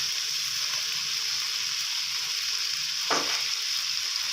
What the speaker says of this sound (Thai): ใส่ต้นหอมลงไปนะครับ คนคลุกเคล้าสักครู่